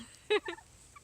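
A single short, rattling gobble from a strutting turkey on a homestead, heard fairly faint at a middle distance against quiet background noise.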